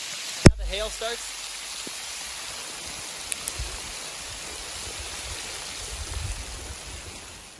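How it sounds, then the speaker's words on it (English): Hail pounds a small cabin with a mini wood stove, making a loud, steady, dense patter that fills the clip. A sharp knock sounds near the start, and a few brief louder hits follow. "Now the hail starts."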